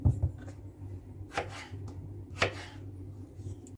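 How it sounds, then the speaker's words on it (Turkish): A few sharp knife chops through potatoes on a cutting board, spaced apart, fairly quiet with a low background hum. "Biraz iri yapacağım patateslerimi. Şu şekilde doğrayabilirsiniz arkadaşlar."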